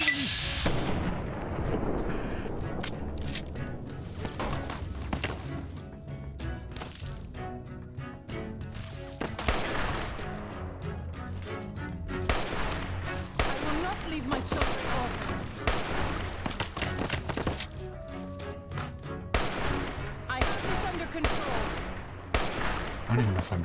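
Sustained weapon fire in Fallout: New Vegas, dense irregular bursts of shots and booming impacts running almost nonstop, with a voice faintly mixed in at times.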